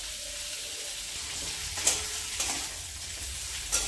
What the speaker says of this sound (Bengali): আলুটাও একটু ভালো করে ভেজে নেব